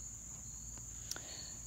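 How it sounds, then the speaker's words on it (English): Crickets chirp outdoors on a humid fall day as a steady, thin high-pitched trill runs continuously at moderate distance, with a faint low rumble of background noise underneath. "all the crickets are out"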